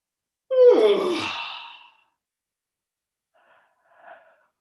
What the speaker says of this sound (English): Turn your head the opposite way and yawn again.